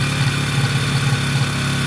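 A WK RT 125 motorcycle idling close by with its exhaust no longer leaking, a loud, steady low engine thrum with a slight rhythmic pulse and no break.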